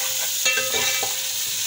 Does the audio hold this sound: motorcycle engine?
no